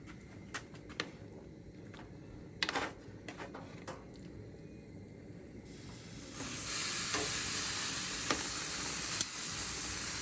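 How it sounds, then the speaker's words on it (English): Meat searing on a hot grill, quiet with scattered sharp ticks and pops at first, then a steady bright sizzling hiss rising partway through and continuing to the end, with a few crackles. "What you want to get is you want to get that searing sound."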